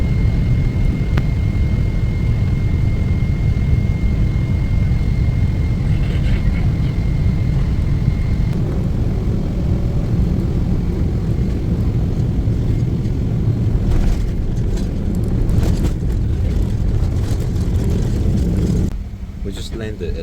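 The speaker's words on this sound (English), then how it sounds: "We just landed at the Nassau International Airport" A British Airways airliner's cabin fills with a loud, constant low roar of engine and airflow during landing at Nassau International Airport. The roar shifts slightly near the end as the aircraft settles on the runway.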